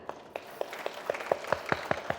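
An audience at an event honouring organ donors claps in scattered, unsynchronized claps that grow denser and louder, with no voices.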